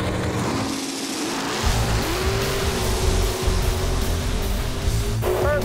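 1982 Chevy Camaro drag race car launching at a raceway, its engine roaring loud and close with a rising revving pitch that builds as it pulls away, with no one speaking.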